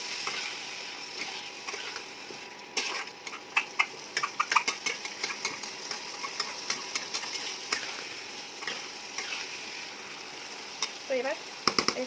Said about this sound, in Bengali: তো এবার একটু ভালো করে কষিয়ে নেবো যতক্ষণ না তেল ছাড়ছে ততক্ষণ পর্যন্ত।